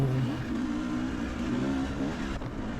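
An enduro motorcycle races over rough terrain during an overtake, its engine revving loudly up close in a steady buzzing pull, the note wavering slightly as the throttle works.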